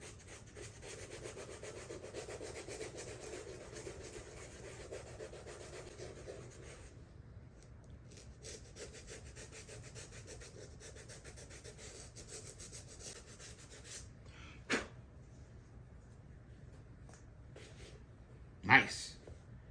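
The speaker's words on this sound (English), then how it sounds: "take the emery board and just scuff that area up" An emery board scuffs the inside of a roller skate in quiet, rapid rasping strokes, steady at first and then thinner, with a couple of sharp knocks near the end.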